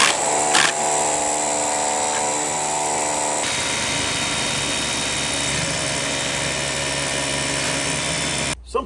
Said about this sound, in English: I just run that 1/2 inch masonry bit right through the sill plate